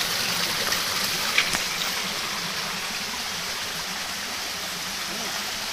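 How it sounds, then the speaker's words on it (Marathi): Steady, loud rush of fast-flowing stream water at night, continuous and close, with a faint voice briefly underneath. "सो पर्याचं पाणी थोडं जोरात आहे, त्याचा आवाज जास्त आहे"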